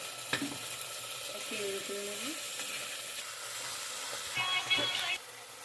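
Spices frying and being stirred in a pan for a jackfruit and prawn curry, a steady soft sizzle with scraping spoon strokes near the end, close and moderate in level.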